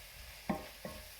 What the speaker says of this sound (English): And that's going to go in with the frying leeks.